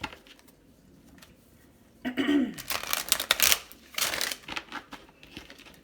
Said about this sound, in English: One more shuffle, I'm hearing.